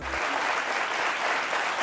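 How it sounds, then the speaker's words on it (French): Studio audience on a French talk-show set applauds to welcome the day's guest, a steady dense burst of clapping that holds for about two seconds with no voices over it. "Merci d'applaudir notre invité témoin du jour, Sommet Romain."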